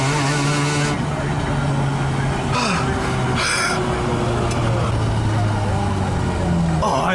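A Mazda RX-8 rotary engine in a flood-damaged project car revs high, its tone climbing and shifting over a steady loud drone, with a few brief sharp noises along the way.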